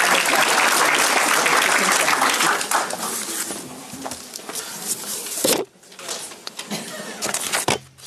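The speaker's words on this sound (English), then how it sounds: "Please give Jimmy a round of applause." Audience applause at a church safety and self-defense workshop, a full crowd clapping steadily and loudly before thinning out, a brief pause, then scattered claps as the room settles.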